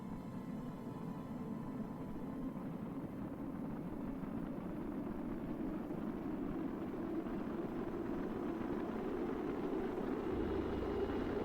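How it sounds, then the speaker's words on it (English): A rocket engine fire roars in Kerbal Space Program, a steady low rumbling burn that holds evenly and grows slightly louder over several seconds. "Where's the sound of the fire, though? There it is."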